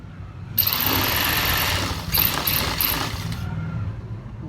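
Sewing machine stitching a side pocket on a garment, a loud close mechanical whir with rapid rattling needle action that starts abruptly and runs for about three seconds before stopping, no talking.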